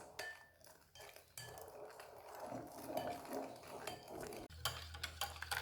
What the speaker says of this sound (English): We keep on adding the milk and whisking in the same time until all the milk is finished.